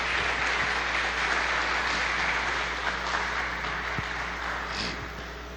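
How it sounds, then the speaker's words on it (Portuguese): A church congregation gives a warm round of applause, a continuous dense clapping wash over a low steady hum, fading slightly toward the end. "Dê uma linda salva de palmas para a sua igreja, em nome de Jesus."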